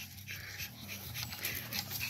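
A Tibetan Mastiff pants steadily at close range, breathing in quick, breathy rhythm with faint whimpering mixed in, moderately quiet and with no talking.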